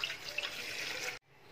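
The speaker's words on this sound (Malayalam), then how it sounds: "അതിലേക്ക് 2 കപ്പ് വെള്ളം ഒഴിച്ചു കൊടുക്കാം." Two cups of water are poured into a cooking pot in a home kitchen. The pour is a close, steady splashing that runs for about a second, then stops abruptly, leaving near silence.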